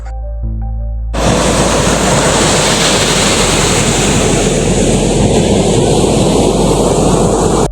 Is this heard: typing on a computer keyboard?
no